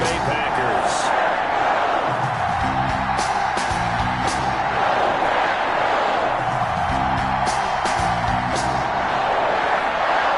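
Steady roar of a stadium crowd cheering before a Carolina Panthers versus Green Bay Packers game at Lambeau Field in Madden 21, constant and loud with rising whoops, under a commentator's voice.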